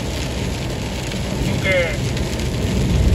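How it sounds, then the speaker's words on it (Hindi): Summer rain falls in Harrisburg, Oregon, a steady hiss of drops with some wind noise, while someone speaks briefly over it. "ये गर्मियों की पहली बारिश है, समर रेन ये हो रही है"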